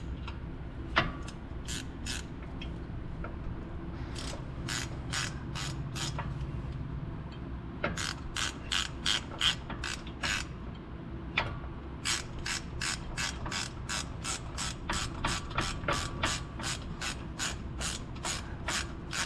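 A ratchet clicks in quick bursts while brake caliper bolts are run in on a 2017 Ford Fusion during a front brake and rotor job, with sharp rhythmic ratcheting repeated through the clip, close up and fairly quiet.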